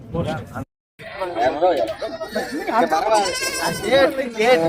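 Goats and young kids bleating at the Kunnathur goat market, with wavering bleats overlapping near and far amid a continuous crowd murmur and people talking nearby.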